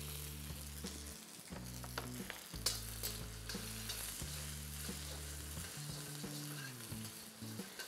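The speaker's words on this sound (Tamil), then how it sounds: "இந்த வெங்காயத்தை இந்த ஆயிலில் போடுங்க." Roughly chopped onions dropped into oil for a potato and pea kurma, frying with a steady close sizzle and occasional stirring clatter over a low, humming tonal background.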